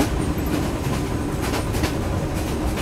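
A passenger train runs on rails, steady rumbling with rhythmic clickety-clack from the wheels, heard from inside the carriage at a constant, moderately loud level.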